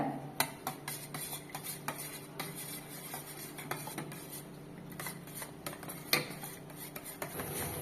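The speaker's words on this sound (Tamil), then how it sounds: "இப்போ இது எல்லாமே சேர்த்து நல்லா கலந்து விடுங்க" Egg mixture with chopped onion and coriander being beaten in a bowl, with repeated scraping and clinking taps against the bowl in an uneven rhythm, close and moderately loud, no talking.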